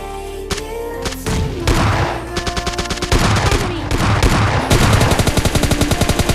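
Rapid automatic gunfire from the video game PUBG Lite crackles in dense bursts, with a booming shot early on and sustained volleys rattling throughout at close, loud range.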